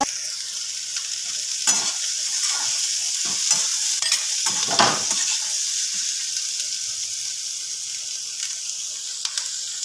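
Onion fries in a pan while cooking paneer matar, a steady bright sizzle with occasional soft scrapes and stirring knocks, close and continuous with no talk.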